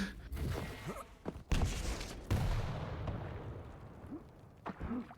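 Rocket launcher blasts and explosions from a Quake match, a burst of sharp booming shots followed by rumbling impacts, loud and close with little else around.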